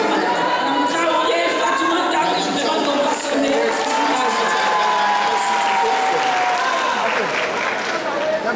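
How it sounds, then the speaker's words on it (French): Sustained applause from a large audience at an international forum for women entrepreneurs, steady dense clapping that stays loud for the whole span, with some crowd chatter mixed underneath. "Je demande d'applaudir."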